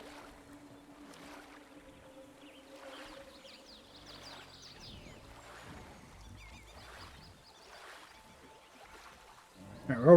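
Kayak gliding through water on a Jurassic Park Japan-themed video game park ride: soft, continuous lapping and splashing with faint tonal game sounds underneath, a louder burst at the very end, no talk.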